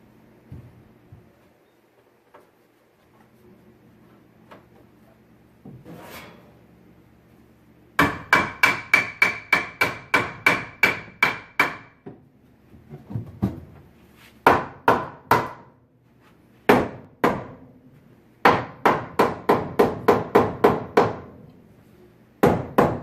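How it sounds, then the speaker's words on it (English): Sharp hammer blows drive a wooden header into place within the wall framing for a ventless gas fireplace insert, coming in fast rapid bursts of ringing knocks, loud and close, with short pauses between the groups. "It should slide right in with the assistance of a hammer."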